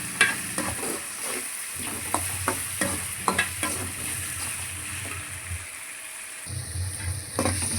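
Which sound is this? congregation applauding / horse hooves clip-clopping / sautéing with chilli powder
sautéing with chilli powder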